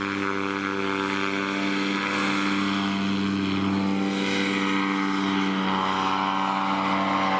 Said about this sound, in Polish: Startuje Waldek na nowym gaźniczku.